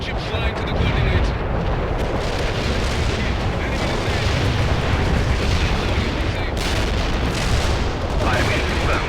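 A medium gunship bombards target coordinates in the strategy game World in Conflict, a loud, continuous roar of heavy blasts and rumbling explosions that blend into one dense barrage throughout.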